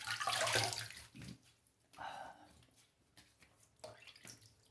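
Water splashes and trickles as a man wets his face at a sink before a wet shave, in several quiet bursts separated by brief pauses.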